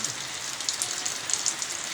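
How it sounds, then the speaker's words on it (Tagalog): Heavy typhoon rain pours steadily onto a house whose roof has been torn away, a dense continuous hiss with scattered sharper drop impacts close by, no voices. "Malakas yung ulan."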